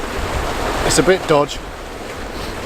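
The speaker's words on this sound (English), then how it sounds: "Tide's still splashing up a bit, but it is receding" Tide waves washing against a rocky beach on the Somerset coast, a steady broad surf roar with wind buffeting the microphone, while someone briefly speaks over it.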